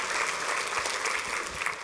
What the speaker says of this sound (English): let's give those four a round of applause